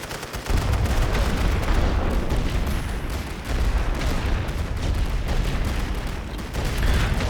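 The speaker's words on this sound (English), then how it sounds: "Our guns will be hitting them now." Heavy artillery in The Great War: Western Front, a World War I strategy game: continuous booming barrage with dense rumbling blasts and crackling shots sustained throughout, loud and close.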